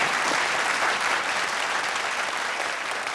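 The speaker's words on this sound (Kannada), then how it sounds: "ಚಪ್ಪಾಳೆ." A studio audience applauds with dense, steady clapping that holds evenly throughout, fairly close and without a break.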